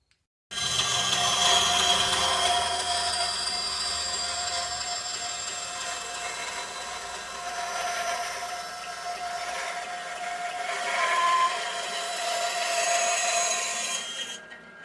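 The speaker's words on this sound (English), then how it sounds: "I'm going to take this over on the bandsaw and cut that out." A bandsaw cuts a wooden ghost shape with a steady, loud whine and hiss that runs almost unbroken, swelling slightly as the blade works the curves, with no voices.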